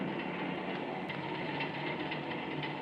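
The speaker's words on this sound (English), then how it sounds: "Episodes of The Mysterious Traveler began with sound effects of a steam locomotive pulling a string of passenger cars" Steam locomotive pulling a string of passenger cars, a steady, continuous rumbling rail roar with faint rhythmic clatter throughout, close and even in loudness, with no voices.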